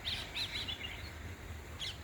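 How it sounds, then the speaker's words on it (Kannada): Small birds chirp in a spring garden at a residential community. Bright, quick twittering calls come in short bursts over a steady low background hum, at moderate distance, with no talking. "ಚಿಲಿಪಿಲಿ ಕಲರವ"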